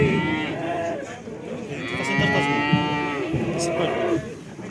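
Young bulls moo at the Karakol livestock market. One long, loud, drawn-out low is heard up close over the busy background murmur of the market, and people talk faintly nearby.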